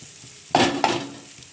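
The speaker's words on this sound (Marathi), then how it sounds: "हे बघा आपण सगळा ठेसा याच्यात टाकला आहे आता हे चांगला तेलामध्ये असा एक जीव परतणार आहोत" Green chili, onion and garlic thecha hits hot oil in a pan, with a sudden loud sizzle and a second burst as it is stirred, then continued frying hiss.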